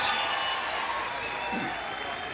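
A crowd at a women's compound team archery gold final in Medellin applauds steadily at moderate distance, a broad wash of clapping throughout with a commentator's voice faintly under it.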